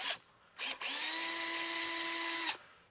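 A power drill backing screws out of a Kirby Generation vacuum cleaner's housing: two short whirring bursts, then a steady high motor whine for nearly two seconds before stopping, close and alone.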